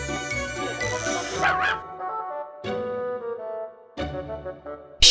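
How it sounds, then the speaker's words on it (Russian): A puppy yips and barks in several short, high bursts with whimpery pauses between, close by and fairly loud. "Щенок."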